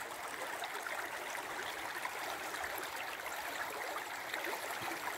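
Low River Moy in Ireland on an August morning, water running over exposed stony shoals in a steady broadband rush with fine gurgling detail, close and continuous with no voices.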